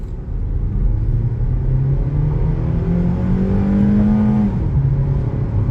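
A 2007 Honda Civic runs 0 to 40 and back to a stop, its engine note climbing steadily through the gear, then dropping off sharply as it brakes hard with ABS, loud and close throughout.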